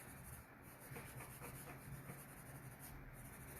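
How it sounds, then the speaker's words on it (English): Finishing pad rubbed over a furniture transfer on a wooden secretary desk, soft close scratchy strokes repeating in a quiet, even rhythm. "So I will go through this entire thing with my finishing pad and I will just burnish those edges down"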